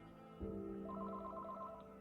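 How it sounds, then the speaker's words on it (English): A telephone rings late at night, a sustained tonal bell-like ring starting shortly in and holding steady at moderate level, alone with no talk. "Finally, late that night, Fields' phone rang"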